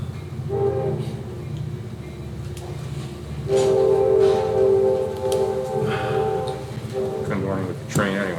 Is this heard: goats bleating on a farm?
no